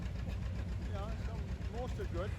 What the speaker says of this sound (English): Today his brother Edward is on tractor duty